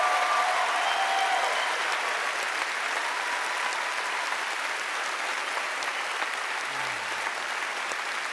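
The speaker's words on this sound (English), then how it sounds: "round of applause for our panelists here." A convention audience applauds panelists at a gaming event, dense sustained clapping that fills the whole stretch at a steady, fairly loud level from a large crowd.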